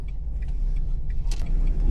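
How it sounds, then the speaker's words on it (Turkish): Interior of a Renault Twingo with its engine mounted at the rear, driving on roads near Lake Como toward Mandello; a steady low rumble of engine and road noise fills the cabin, with faint light rattles and no talk. "Kullandığım araba da Renault'un Twingo'su. Arkadan motorlu."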